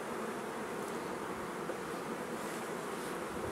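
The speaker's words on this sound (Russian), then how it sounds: "Это темные пчелы, блин, это старые, еще в избытке." Old dark honey bees hum in an opened hive, a dense, continuous close buzz of many insects without pause or voices.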